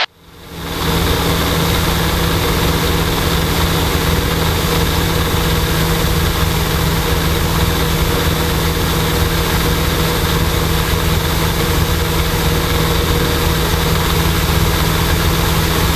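Engine of a Luscombe light aircraft droning steadily in flight, a loud, dense, continuous rumble with a steady tonal hum that rises quickly at the start and holds close and unbroken, with no talk over it.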